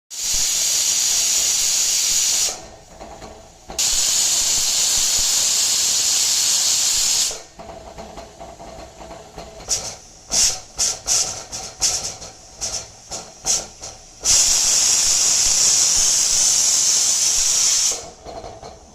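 Pressure cooker cooking rice, whistling with a loud sustained steam hiss, then a stretch of sputtering, pulsing bursts of steam release, followed by another long loud whistle; no talking.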